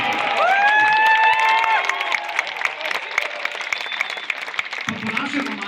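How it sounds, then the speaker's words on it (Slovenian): Outdoor crowd at a Ljubljana welcome reception for cyclist Tadej Pogačar claps and cheers loudly and steadily, with whistles and shouts mixed into a dense wash of applause that stays strong throughout. "Dajmo še en aplavz."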